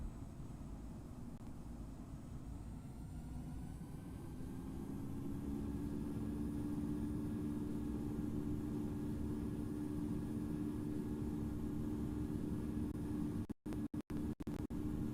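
Airliner in the Infinite Flight game rolling down the runway for takeoff: a steady, loud engine roar with a low rumble and whine builds and holds, ending in a few sharp clicks.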